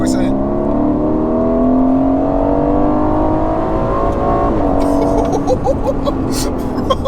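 A twin-turbo 503 bhp V8 Aston Martin Vantage in track mode accelerates hard from inside the cabin, its loud engine note climbing steadily in pitch, then briefly dropping at a gear change before pulling again.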